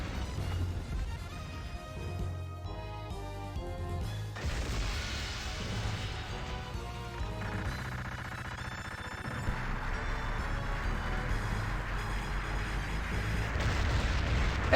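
Metal Slug arcade-style gunfire and explosions crackle in dense bursts over driving game music, with crashes and booms swelling toward the end, busy and continuous with no speech.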